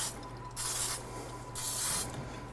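A muffin tin gets a light coating of cooking spray over a kitchen sink: two distinct hissing bursts, each about half a second long, close and clear against a quiet room hum.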